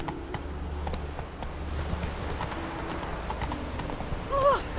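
Roach, the horse in The Witcher 3, galloping with a steady, rapid clip-clop of hooves close by, a brief whinny near the end.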